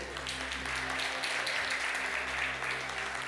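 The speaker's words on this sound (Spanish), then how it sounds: "Démosles un aplauso fuerte" A church congregation applauds for the children during a Sunday service, a steady wash of clapping heard at moderate distance over a low hum, lasting the whole stretch without a break.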